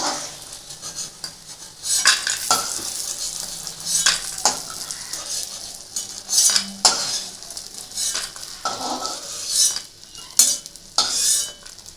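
Lentil dumplings (bori) frying in oil in a home kitchen for Bengali aloo posto, stirred with a utensil: steady soft sizzle under repeated scraping and clinking strokes against the pan, close and alone.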